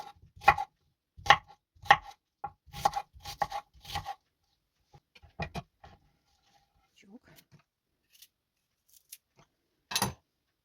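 A knife chops on a board in sharp, uneven clusters of taps, close and crisp, pausing now and then before a final cut.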